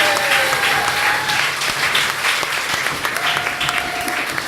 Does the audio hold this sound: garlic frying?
no